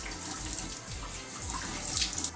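Tap water running into a sink during a face rinse in a night skincare routine, a steady close splashing stream with small bursts as hands move through it.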